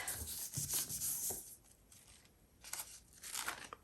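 Hand rubbing a colored book page onto a gelli printing plate, soft papery scratching strokes in bursts, close and quiet, with pauses between the rubbing passes.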